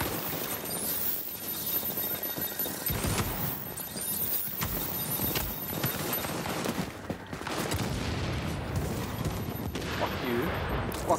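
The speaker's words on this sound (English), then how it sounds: "Now they're gonna shoot us." Gunfire rattles in the video game The Division, with sustained bursts and scattered shots throughout, fairly close, layered with game ambience and occasional talk.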